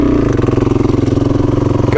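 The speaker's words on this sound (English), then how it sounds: "gotta keep the revs. This is one of it, and you gotta accelerate down the hill." A motorcycle engine on a sandy Simpson Desert track runs under steady throttle, a loud, throbbing pulse with a rapid even beat, held close to the rider.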